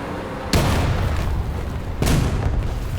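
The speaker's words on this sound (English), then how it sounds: "He's trying to bomb me completely, but it's not working out for him" Two heavy booms from bombs dropped by a Ki-21 bomber on a tank in the World War II combat game War Thunder, with broad low rumble roughly a second and a half apart over steady engine and battle noise.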